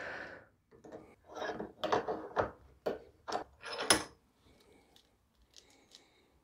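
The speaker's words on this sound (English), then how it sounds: "I'm going to start it on the thread, and we're going to tighten this all the way" An AN fitting being threaded and tightened onto braided fuel hose, heard as a close series of short metallic clicks and ratcheting scrapes, about eight sharp bursts, then softer faint taps with no talk.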